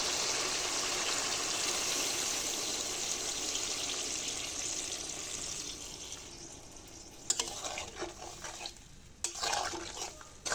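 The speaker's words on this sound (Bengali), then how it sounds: "এবারে দিয়ে দেবো পানি।" Water is poured into a pan of fried taro stolons being cooked with rohu fish, a steady hissing gush that fades, followed by a few faint stirring scrapes and clinks.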